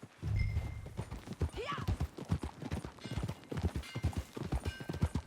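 Horse hooves clip-clop in a steady rhythmic trot in the video game Red Dead Redemption II, with a brief whinny early on and faint voices underneath.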